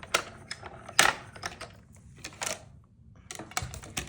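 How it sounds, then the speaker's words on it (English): A small desktop cut and emboss machine running on paper, giving irregular clattering clicks and short mechanical bursts, close and fairly quiet, with no voices. "I just got this mini cut and emboss machine"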